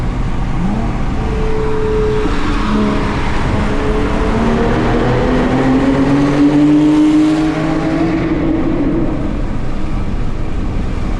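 A 2007 Porsche 997 Turbo with an open exhaust accelerates hard, its loud engine note climbing in pitch through several gears for about eleven seconds, close and continuous.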